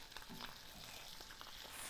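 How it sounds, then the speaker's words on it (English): An egg fries in a pan, a faint, steady crackling sizzle with small pops, quiet and close with no talking. "once your egg is sizzling"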